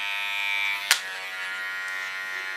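An electric hair clipper buzzes steadily while cutting hair very short, from 2.5 mm down toward half a millimetre, holding a constant whine near the head with one brief sharp click partway through.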